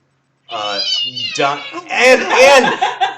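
A cat meows loudly and repeatedly in drawn-out, wavering cries, close to the microphone, with a short pause before a louder, more strained run of meows.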